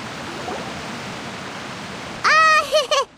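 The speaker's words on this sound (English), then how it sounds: "Oh, it's raining." Rain in a video game, a steady, even hiss of downpour that carries on until a short voice cuts in near the end.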